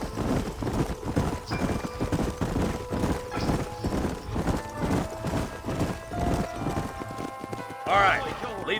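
Horse hooves clip-clop in a steady trotting rhythm in the video game Red Dead Redemption 2, with a horse whinnying near the end; voices murmur under the hoofbeats.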